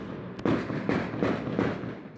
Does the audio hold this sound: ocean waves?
no